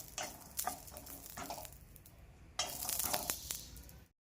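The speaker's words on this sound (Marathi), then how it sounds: "आता जो हा लसूण आहे तो पण भाजून घ्यायचा आहे।" Garlic dry roasting in a pan for a garlic-coconut chutney gives off light crackles and stirring scrapes in two bursts separated by a quieter stretch, fairly close and soft.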